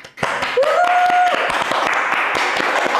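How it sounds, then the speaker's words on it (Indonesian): Audience clapping at a youth talk on stunting, sharp individual claps over a steady roar of applause with a brief voice or whistle-like tone riding above early on. "tepuk tangan semuanya"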